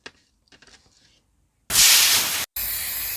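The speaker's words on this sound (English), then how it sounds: "the matte spray was a little bit of a failure because I didn't realise I was completely, almost empty in the can of matte spray" A spray can of matte sealer hisses loudly and close in a long burst. It cuts out briefly and then resumes, after a few soft handling taps at the start.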